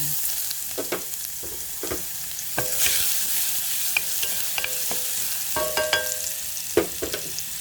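Steady sizzling of garlic frying in hot oil in a casserole pot, with scattered scraping and clinking of a utensil stirring the pan.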